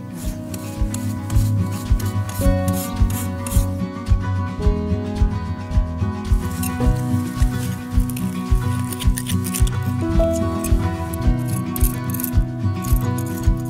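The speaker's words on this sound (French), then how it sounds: "il existe une panoplie d'outils pour cela, dont cette petite brosse dure et ce couteau spécifique" A small stiff brush and a weeding knife scrape weeds out of garden gaps in steady, rhythmic rasping strokes. The scraping is close and fairly loud and repeats evenly with no speech.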